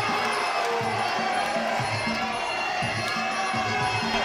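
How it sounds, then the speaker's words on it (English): A crowd at a UK Muaythai World Series tournament fight roars and cheers steadily, a loud, continuous wash of voices with rhythmic low pulses running throughout. "The crowd is going absolutely off"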